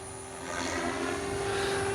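A model helicopter attempting a half roll aerobatic manoeuvre, its rotor and engine whine steady and fairly loud throughout, rising slightly as the move begins, with no talking.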